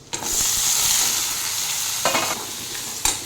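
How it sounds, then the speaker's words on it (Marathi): Onions tipped into hot oil with garlic already browned, a loud hiss that settles into a steady sizzle, then a burst of scraping stirs and a sharp clack at the end, no voices. "आता लसूण छान लालसर झालेला आहे यामध्ये मी आता कांदे घालत आहे"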